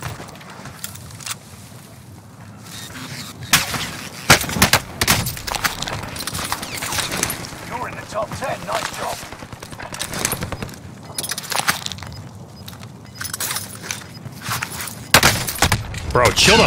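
Gunfire in the battle-royale shooter Warzone, sharp individual shots and short bursts cracking repeatedly amid busy game noise and footsteps, with a player talking over much of it.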